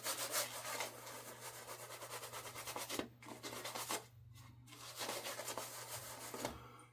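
Razor shaving a head after four days of growth, close, steady rasping strokes in quick rhythmic succession, pausing briefly twice before resuming, faint and intimate.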